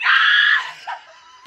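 A woman screams loudly in excitement at an Oscars announcement, one long high shriek lasting over half a second, then trailing into a breathy gasp and a short squeal, alone without other talk.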